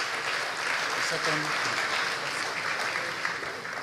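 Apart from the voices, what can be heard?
audience applause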